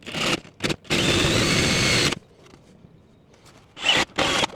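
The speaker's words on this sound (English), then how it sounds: "Now I'm going to use the drill motor instead" A cordless drill driving a screw whirs in short spurts and then a long steady run, pauses in near quiet, then revs in two more brief bursts.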